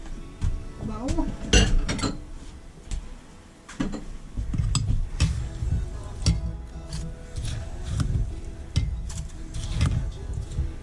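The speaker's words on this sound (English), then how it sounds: "I'll get me a bowl." Dishes clink and knock as a bowl is fetched in a home kitchen while making snow cream, a series of sharp ceramic and utensil clatters over background noise and shuffling.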